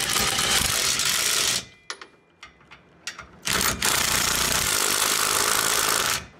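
Power tool, likely an impact wrench, tightening trailer hitch bolts on a 2020 Toyota Tacoma, with two long loud bursts of rattling buzz separated by a quieter gap of clanks and short hits.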